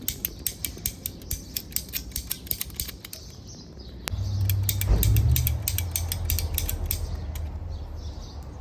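A sugar cane stalk is cut apart in a garden with a run of sharp, evenly spaced clicking snips, then a heavier crunching cut through the stalk close by, with a low rustle trailing after.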